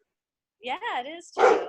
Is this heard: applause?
no